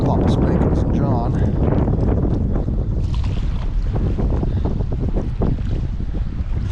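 Strong wind buffeting the microphone beside a pond, a loud continuous low rumble with gusty roar throughout, and someone speaking underneath.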